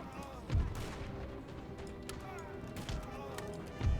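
Cannon artillery fire in the Total War: Napoleon battle game, with three heavy booming blasts spaced a second or more apart over a busy bed of distant battlefield noise.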